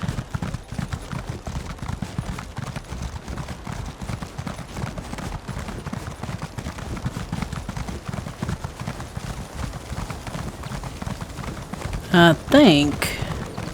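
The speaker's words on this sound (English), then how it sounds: "Let me get on my horse here." An Indrik mount trots along in The Elder Scrolls Online, its hooves beating a steady, rapid rhythm throughout, with a brief spoken phrase and a louder sound near the end.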